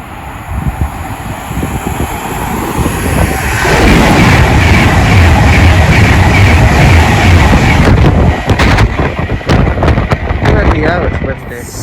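A freight train passes through Milton Keynes Central station in England, its heavy rumble swelling after a few seconds into a loud, continuous roar with rapid clattering of wagons on the rails.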